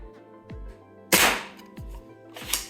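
Worker Harrier foam blaster fires one sharp, loud burst, with a softer second shot near the end and faint mechanical clicks and low hum between the shots.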